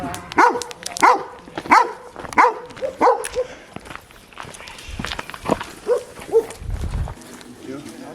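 A puppy barks in a quick run of sharp, regular yaps near the microphone, then calls more sparsely while people talk and move around nearby.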